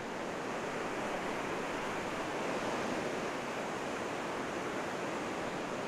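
Waves on a raging lake surge in a steady, dense roar of broadband surf and wind, loud and continuous throughout, with no voices.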